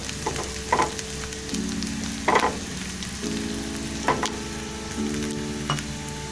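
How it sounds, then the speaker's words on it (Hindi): Cumin seeds and onions frying in a pan, a steady close sizzle broken by a few clattering stirs of a utensil, with no talking. "इसी के साथ साथ जो है वो इसके अंदर हम थोड़ा सा ज़ीरा डालते हैं और ज़ीरा भी हम फ्राई करते हैं।"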